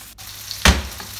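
Meat being stir-fried in a pot: a single short, sharp sizzle and scrape bursts out near the end of a quiet stretch.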